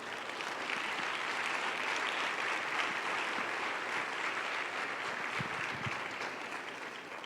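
A church congregation at a Sunday service claps together in a steady, sustained round of applause, faint and somewhat distant, without voices over it.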